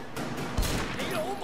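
Gunshots ring out in a Sleeping Dogs firefight, a short flurry of close, sharp reports with one heavy thump, and a voice talking alongside.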